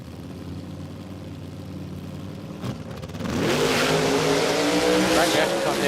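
A dragster makes a drag racing run at Willowbank Raceway in Queensland, Australia. A low engine rumble builds to a sudden, loud, sustained roar of acceleration about halfway through, with a voice talking over it.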